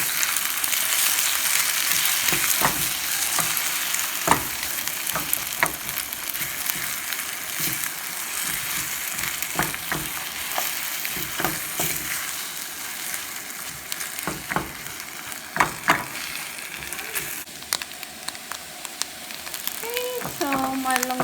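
Egg frying with longaniza sausage in a pan, a steady broadband sizzle running throughout with scattered crackles and spatter pops, and a brief voice near the end.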